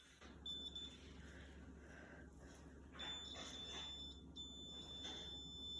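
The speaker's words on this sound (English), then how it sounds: "Yup, that's a buzzer sound." A buzzer wired into a parallel circuit for a science experiment sounds faintly, with thin steady high-pitched tones over low background hum and no talking.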